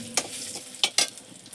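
Fried mola fish sizzles in hot oil as whole spices are tempered for a spicy curry, with a steady hiss broken by a few sharp crackling bursts and stirring, and no voices.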